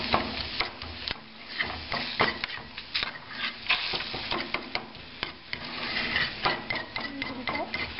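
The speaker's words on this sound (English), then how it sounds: "And I stir it." Spinach and eggs stirred in a frying pan, with repeated close scrapes and taps of the utensil over a light sizzle, and people chatting briefly in the background.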